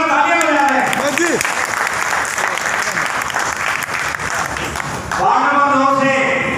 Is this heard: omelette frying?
no